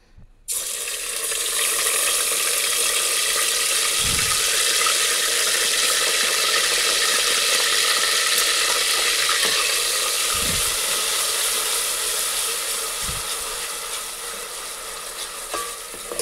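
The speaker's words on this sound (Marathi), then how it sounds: "हे वाटण आहे लसूण, अद्रक आणि कोथिंबीर. ह्याची फोडणी करून घेऊया." A garlic, ginger and coriander paste fries in hot oil for pav bhaji, giving a steady, loud sizzling hiss that runs almost unbroken for the whole stretch, with a few soft low knocks and no talking.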